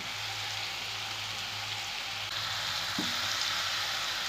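Mashed banana sautéing in ghee, a steady close sizzle and crackle with a faint stir or scrape near the end, and no voices.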